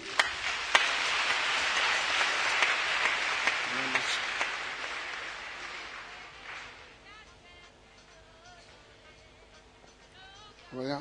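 A church congregation breaks into broad applause and cheering in acclaim of Jesus, loud at first and then fading out as a voice speaks.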